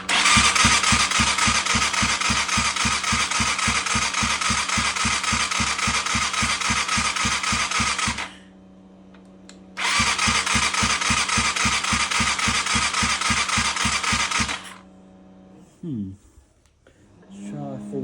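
A small go-kart engine starts and runs at a steady, loud, rapid-firing idle, cuts out for a moment, then fires up again and runs before stopping, followed by brief mechanical clunks and a few spoken words.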